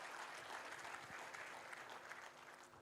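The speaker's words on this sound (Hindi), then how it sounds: "एक बार जोरदार तालियों से सभी स्वागत और सम्मान करिए" An audience at a literary foundation event in Surat gives hearty applause to welcome honoured guests: dense, steady clapping that fills the whole stretch without pause, with no talk over it.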